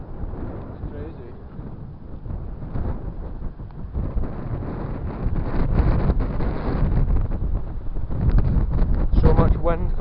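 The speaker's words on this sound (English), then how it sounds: "So much wind coming through this hole." Wind blows through a hole in an old stone viaduct as a deep, rushing rumble. It buffets the microphone and grows stronger and gustier toward the end.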